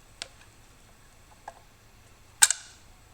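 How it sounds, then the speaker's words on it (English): A bearing puller kit drawing a water pump bearing out of a 2004 Yamaha YZ450F gives a few sparse, sharp metallic ticks, then a louder cracking pop with a quick second snap near the end, close by in a quiet room. "Using a bearing puller kit to get this bearing out."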